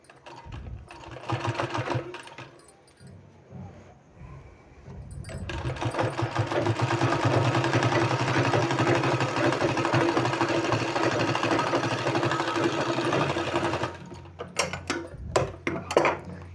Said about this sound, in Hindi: इस तरह से रख के इसमें सिलाई लगा लेना है